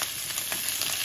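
Onion sizzles and fries in a pan for a Filipino smoked etag guisado, a bright, dense crackling hiss with faint stirring, close and steady.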